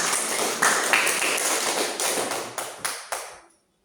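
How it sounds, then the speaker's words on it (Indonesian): A classroom of students claps hands together, a dense steady burst of many palms that ends in a few last separate claps before silence. "kita tepuk tangan dulu"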